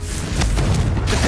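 A Confringo spell explosion in the video game Hogwarts Legacy: a short, heavy boom that swells and holds with a low rumble.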